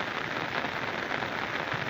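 Steady rain pours down on an open farm field where a sacrificial bull stands bathing, producing a dense, even wash of close hiss without pauses.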